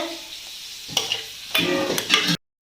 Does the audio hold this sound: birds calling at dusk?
no